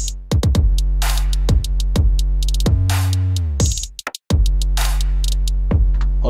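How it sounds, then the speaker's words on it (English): A deep sustained bass line drives an electronic track, booming low notes held under punchy kicks and bright snare and hat hits, the full loop loud and steady before a brief drop near the end, no voices. "And the bass."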